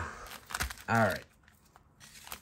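Foil wrapper of a 2022 Bowman baseball card pack being torn open up close, a short crinkly rip followed by crackling and handling noises, with a voice talking over it.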